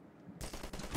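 Gunfire in the game Garry's Mod, a quick rattling burst that starts abruptly after a brief quiet moment and keeps going, fairly faint overall.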